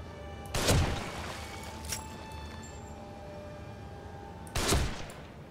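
Two loud, close gunshot blasts ring out in The Evil Within, a survival horror video game, about four seconds apart with faint reverberant ambience between them.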